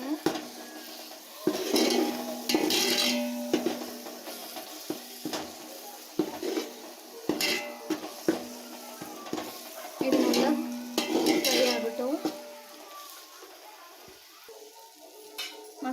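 Mushroom biryani masala is stirred in a pot, with a spoon scraping and clinking against the metal over a soft sizzle in repeated bursts, and a voice talks now and then.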